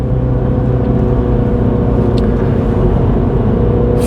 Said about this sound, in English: I'm just going to let you enjoy the sights and sounds of the B723